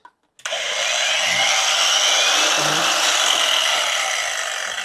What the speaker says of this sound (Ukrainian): інструментом болгаркою аж дергало